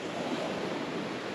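Ocean waves washing around an anchored dinghy, a steady broad wash of surf and wind noise, close and continuous with no voices.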